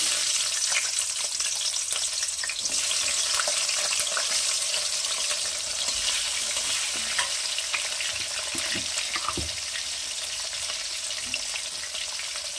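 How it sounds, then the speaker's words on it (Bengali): Potatoes and vegetables fry gently in a pan for a Bengali shish palong, a continuous soft sizzle with occasional light clicks and scrapes of stirring, close and steady without speech. "এক এক করে আমি সবজিগুলো দিয়ে আস্তে অল্প করে ভেজে নেব, বেশি কড়া ভাজবো না। প্রথমে দিয়ে দিলাম আলু"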